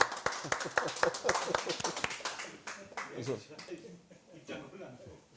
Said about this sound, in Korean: 물꽃나라 박수 한번 치시고 할까요?